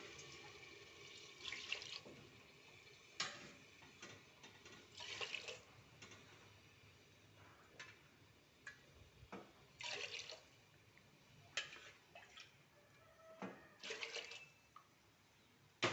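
Water poured into a cooking pot for rice and dal, several separate splashing pours with gaps of trickle and drip between them, close and fairly quiet.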